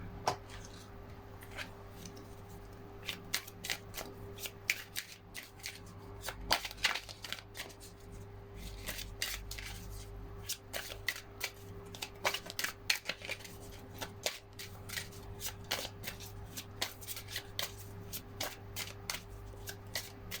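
A deck of tarot cards is shuffled up close in repeated quick riffles and flicks, crisp papery snaps coming in irregular bursts over a quiet low hum, with no talking.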